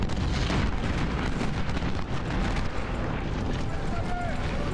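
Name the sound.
artillery fire in video game Ultimate General: Civil War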